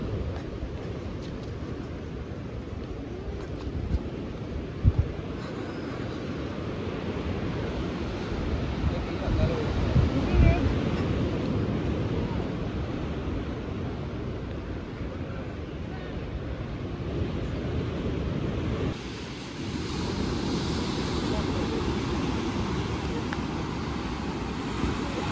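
Ocean surf at Broken Beach in Bali, a steady loud wash of waves and wind rumbling continuously throughout, with a brief drop in level near the end before the roar resumes.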